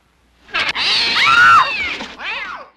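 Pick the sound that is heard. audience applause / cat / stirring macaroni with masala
cat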